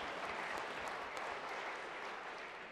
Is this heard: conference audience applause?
yes